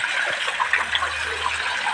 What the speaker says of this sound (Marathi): त्यातून आहे पाणी येत आहे गौमुख